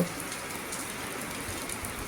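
Steady rain falls at night, a dense, even hiss of drops on surfaces that holds at a constant level throughout, with no voices.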